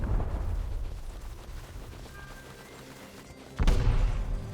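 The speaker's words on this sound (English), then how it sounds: "we immediately heard the echo of explosions coming from the direction of the mining outpost" Distant explosions from a mining outpost in the video game Rust: a low rumbling boom fades into a dull ambient hum, then a sharp, heavy blast erupts and rolls on with a lingering rumble.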